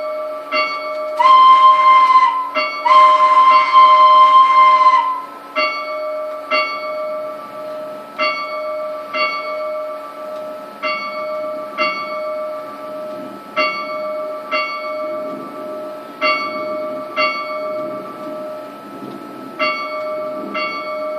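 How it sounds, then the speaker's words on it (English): A train bell in Garry's Mod dings in a steady, evenly spaced rhythm, preceded by two loud, sustained blasts of a steam whistle, clear and close with no talking. "let's ding the bell a few times, blow the whistle, and let's get chugging on"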